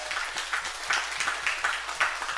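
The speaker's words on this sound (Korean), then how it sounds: "그 하나님께 감사의 영광의 박수 드리고 할렐루야." Church congregation in a Sunday worship service clapping in thanks to God, a brief burst of moderately close, loosely rhythmic claps rising and falling in quick pulses.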